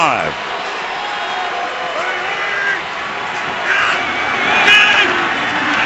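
Football stadium crowd at a Bears vs Steelers game, a dense roar of many voices with shouts and swells of cheering, loud and continuous under a commentator's voice.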